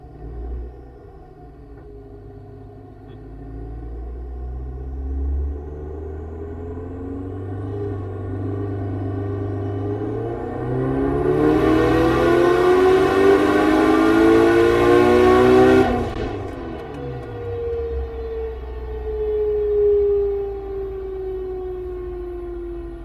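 2005 Subaru STi with a BorgWarner BW300SX turbo on a dyno, engine note rising steadily through a long pull to a loud peak with a noisy rasp, then dropping back off, continuous and close, no talking.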